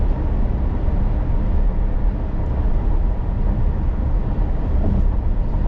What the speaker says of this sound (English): right behind me, there's, like, a truck engine